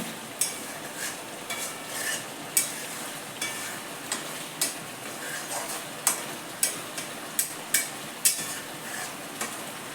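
Pieces of fish frying in a pan and being turned, a steady crackling sizzle broken by repeated sharp utensil clicks and scrapes against the pan, close and moderately loud.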